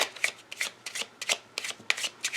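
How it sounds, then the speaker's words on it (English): Playing cards being shuffled in quick repeated riffles, about eight crisp bursts close up, with no talking. "So bear with me while I shuffle these."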